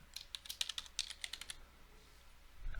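Quick light keystrokes on a computer keyboard as a PowerShell command is typed, a short fast run of clicks that stops after about a second and a half, faint and close.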